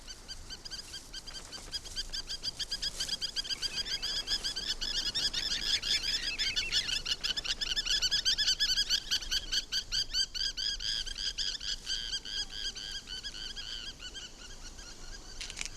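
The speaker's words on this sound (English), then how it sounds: "The spur-winged plover is nesting on a beach that has no crocodiles." Spur-winged plover calling on a nesting beach, a steady stream of sharp, high chirping notes repeated rapidly throughout, moderately near, with no talk.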